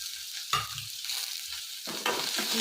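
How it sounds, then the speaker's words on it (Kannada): Sliced onion and coriander leaves fry in a pan with cloves and fennel, a soft hiss interrupted by a few distinct scraping stirs, fairly quiet and close. "ಈಗ ಈರುಳ್ಳಿ ಹಾಕೊಂತ ಇದ್ದೀನಿ ಹಾಗೆ ಕೊತ್ತಂಬರಿ ಸೊಪ್ಪು ಹಾಕೊಂತ ಇದ್ದೀನಿ"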